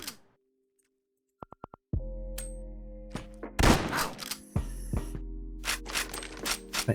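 Gunfire from the shotgun in the video game Quasimorph: a few quick sharp clicks, then several heavy booming blasts with low rumbling tails, loud and close, separated by short pauses, with no voice over them.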